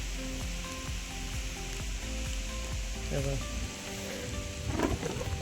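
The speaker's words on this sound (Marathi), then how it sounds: "ढगात गडगडत आहे." Steady rain pours down in the Konkan in May while low thunder rumbles on and off through the downpour, with a louder crack of thunder near the end.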